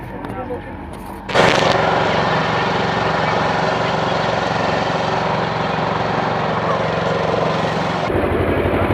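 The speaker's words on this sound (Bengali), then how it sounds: "O launch start." A motor launch's engine on a river crossing near Mayapur roars to life abruptly and then holds a loud, steady, close rumbling drone for several seconds before cutting away.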